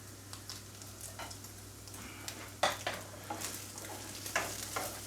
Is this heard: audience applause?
no